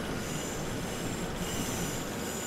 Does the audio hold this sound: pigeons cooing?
no